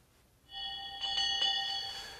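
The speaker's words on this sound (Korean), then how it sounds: "이렇게 두 사람만이 아는 암호를 정해서 이런 종소리를 통해서 안채에 있는 부인과 의사소통을 했던 것입니다" A hand bell rung in the men's quarters of a traditional Korean house as a signal to the wife in the distant inner quarters, struck a few times with clear ringing tones that linger and fade, heard alone.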